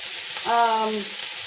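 Meat browning in a pot for forest stew gives a steady, bright sizzle of frying fat, with a voice briefly talking over it.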